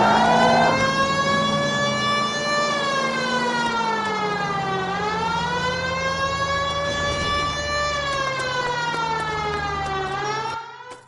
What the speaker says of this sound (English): The siren, Cole, use it